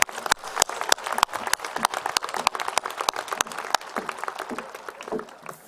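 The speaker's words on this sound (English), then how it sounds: "Please, one more round of applause for the choir and for the band." Scattered applause for the choir and band at a high school graduation ceremony, loose individual claps with sharp transients, moderately close and thinning out near the end.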